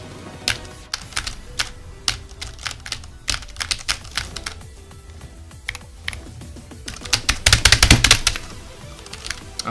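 Rapid clacky typing on a computer keyboard, a second board set up for long needle sessions, steady keystrokes throughout that build into a fast, dense flurry near the end, close and alone.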